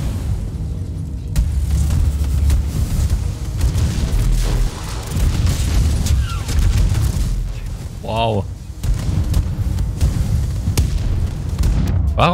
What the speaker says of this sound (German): Warum explodiert hier alles?